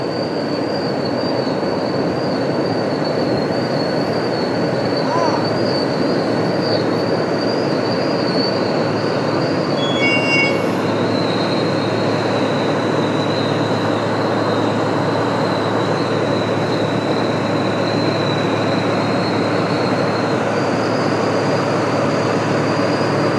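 A train rolls along a railway line in a port area near a cruise terminal in Visakhapatnam, a loud steady rumble with a high wheel squeal running through it and a brief burst of squeaks midway, with no talk.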